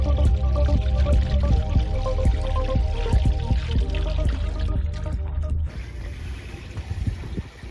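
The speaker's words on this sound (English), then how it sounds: "now I'm just putting some fresh water into the water tank, just to give it a couple of rinses," Fresh water running into a boat's holding tank, a loud, gurgling, splashing fill with irregular drips and knocks up close, quieting to a softer trickle near the end.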